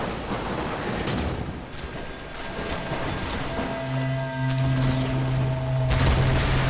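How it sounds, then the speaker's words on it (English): Loud, dense bursts of explosions in the video game Tomb Raider and rapid crackling blasts, continuous and chaotic, with low rumbling booms swelling toward the end. "Yay! Explosions!"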